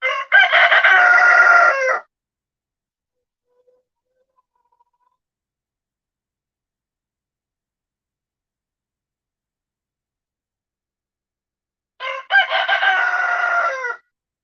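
A rooster crows in two loud, clear bursts about ten seconds apart, with near silence between them and no voices.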